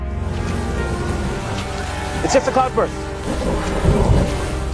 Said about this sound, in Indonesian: ternyata hujan telah turun